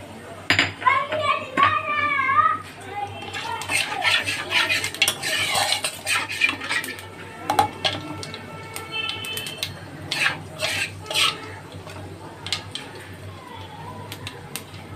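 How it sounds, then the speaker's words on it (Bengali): Black cumin seeds crackle and spit in hot mustard oil. Busy metal clatter and stirring sound close by, and a voice is heard briefly. "আর তাতে ফোড়ন দিয়ে দিলাম দেখো একটু কালো জিরে।"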